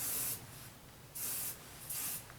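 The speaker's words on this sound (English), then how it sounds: "Use my finishing spray." Hair finishing spray comes out of an aerosol can in three short, close hissing bursts with brief pauses between them and no talking.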